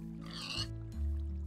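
A pig oinks in modded Minecraft, a short, quiet grunt followed by faint watery game sounds, with no voices.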